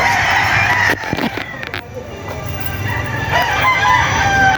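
Roundhead gamefowl roosters crowing on a gamefowl farm, several overlapping loud calls close by and farther off over steady outdoor background noise.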